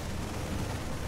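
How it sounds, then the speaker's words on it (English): Dense rumbling explosions and debris blasts from a StarCraft 2 battle between Protoss and Terran armies on the Sequencer map, a continuous loud barrage of booms and crackle with no pauses. "Debris, explosions, fireworks"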